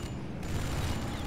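Combat units in the strategy game C&C 3 Tiberium Wars open fire, a continuous dense rattle of gunfire and rumbling battle noise at steady volume.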